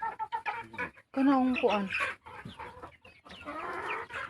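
Shamo and native crossbreed chickens cluck and call in bursts on a rural farm, fairly close, with someone talking over and between them.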